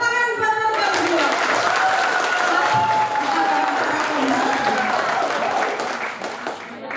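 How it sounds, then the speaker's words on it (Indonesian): A crowd at an Indonesian organisation's congress in Banyumas breaks into sustained applause for a newly acclaimed pair, steady and full for several seconds before thinning out, with voices faintly mixed in. "Tepuk tangan buat mereka berdua"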